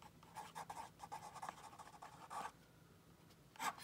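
A pen writes on a birthday calendar card, a soft close scratching in short strokes that pause and resume, faint and without talk.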